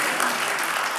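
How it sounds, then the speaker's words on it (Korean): Applause from a church congregation at a Sunday service, a dense, steady clatter of many hands clapping throughout the short moment at moderate loudness. "박수 한번 쳐주세요."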